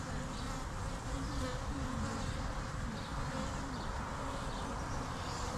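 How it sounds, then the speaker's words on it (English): A dense, continuous buzzing of a swarm of many bees in a garden fills the air, steady and close, with no pauses. "That's a bunch of bees."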